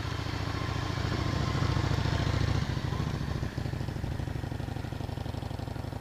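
Motorcycle engine running steadily during a riding lesson, a continuous close idle-to-low-rev hum with a slight rise in pitch midway and a brief dip, with no talk over it.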